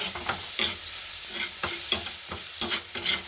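Tomato skins and flesh sizzle as they are stirred and sautéed in a hot pan, a steady frying hiss with regular scraping stirs, close and alone with no talk.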